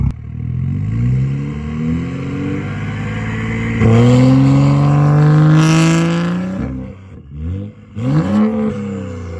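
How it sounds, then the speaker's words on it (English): Straight-piped BMW N55 engine running anti-lag, a loud close exhaust drone rising in pitch with revs, then rough crackling pops and bursts as the throttle drops and picks up again. "it's now time for probably the loudest N55 exhaust note possible, the anti-lag"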